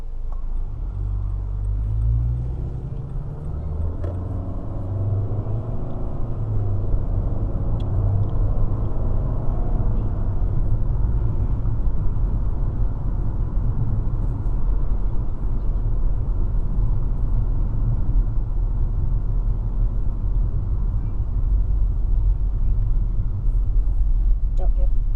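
A 2017 Nissan Altima SV on a test drive, a steady low engine and road rumble from inside the cabin, with people talking over it early on.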